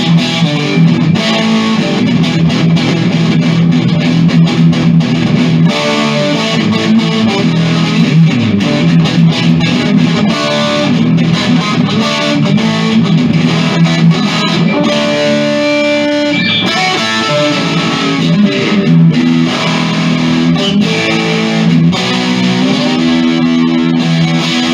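Artist TweedTone 20R 20-watt tube guitar combo amp with gain all the way up, a loud, heavily distorted electric guitar playing sustained chords and riffs continuously throughout.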